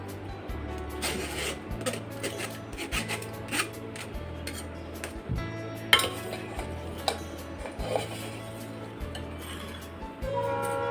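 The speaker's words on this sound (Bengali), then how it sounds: "আমি এখন সাবুদানাগুলো দুধের মধ্যে দিয়ে দেব।" Sago pearls being stirred into cold milk for a sabu sherbet, a spoon scraping and rubbing against the vessel in regular strokes about once a second, close and moderately loud, with small clinks along the way.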